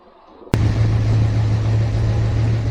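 A Chevrolet Corvette C3 starts off with a sudden burst, then its engine rumbles steadily and loudly from inside the car as it drives.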